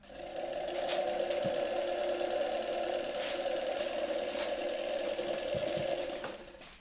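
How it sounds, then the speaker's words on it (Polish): A small electric motor powered from an ordinary 12V car battery charger runs steadily for several seconds with an even, rapid whirring hum, close and continuous, with a few faint clicks and knocks over it and no speech. "podłączając silniki na przykład do zwykłego 12V samochodowego prostownika, tak jak na tym fragmencie nagrania"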